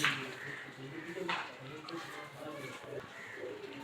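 A fancier's pigeon in a Bangladeshi loft coos in low, soft, repeated bursts. The cooing is faint and near, with people's voices in the background.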